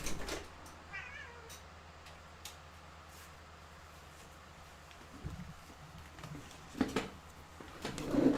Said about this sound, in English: My cat was banging on the door.